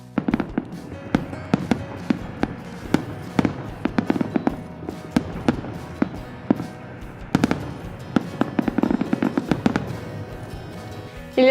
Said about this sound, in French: parfois même des feux d'artifice